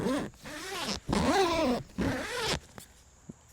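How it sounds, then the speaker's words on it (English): A fabric zipper on the window of a Tidewe hunting blind is pulled in three quick, fairly loud strokes with short pauses between, followed by a couple of faint clicks. "This zipper is not quiet."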